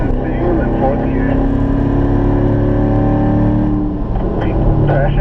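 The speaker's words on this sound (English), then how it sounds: "Let that engine sing in fourth gear." A Corvette on the Spring Mountain track holds a loud, steady engine drone while revving in fourth gear, heard close from inside the car.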